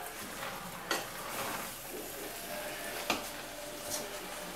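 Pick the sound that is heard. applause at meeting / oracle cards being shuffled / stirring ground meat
stirring ground meat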